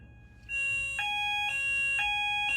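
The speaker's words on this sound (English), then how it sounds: "That was the fire alarm going on." A loud electronic alarm sounds with a steady, piercing tone that pulses roughly twice per second, starting abruptly and continuing without voices.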